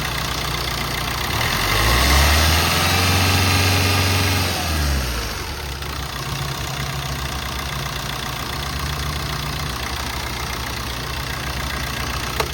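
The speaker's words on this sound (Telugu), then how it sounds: "రేస్ చేయండి, ఎక్సలేటర్ చేయండి." A 2013 Maruti Suzuki SX4 VDI diesel engine idles with the AC on, then revs up and holds a higher pitch for a few seconds before settling back to a steady idle.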